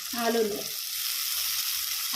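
Steady sizzling hiss of potato pieces frying in hot oil with onions, with a brief voice murmuring at the start.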